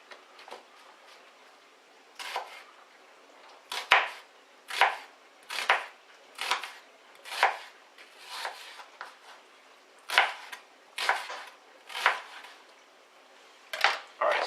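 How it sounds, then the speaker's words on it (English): An onion is chopped with a knife on a board: a steady run of crisp, close knocks, about one every half second to second, clear and alone, for a Lebanese chicken soup. "so that's our onion chopped up"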